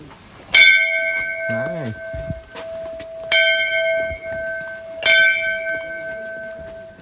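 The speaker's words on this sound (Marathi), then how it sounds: "वाजव घंटा" A temple bell at Shankaracharya Temple in Kashmir is struck three times at even intervals, each clang ringing on with a long shimmering tone, while a voice briefly speaks between strikes.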